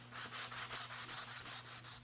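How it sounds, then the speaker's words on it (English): Sandpaper rubs back and forth inside a hardwood box in about nine even, rhythmic strokes, close and soft with brief gaps between passes. "it's always a really good idea to sand the inside first"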